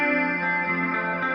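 A sustained, shimmering tone swirls with a wavering chorus-like modulation from a modulated reverb effect, hanging on as a long, nearly infinite, washy reverb tail.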